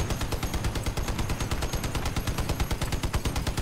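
Continuous automatic gunfire in Crossout rattles loudly in a rapid, even stream of shots that holds steady throughout, with no talking.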